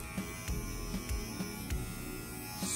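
A Limural hair clipper running, a low steady electric buzz with faint rhythmic knocks and handling noise, quiet and close, with no talk over it.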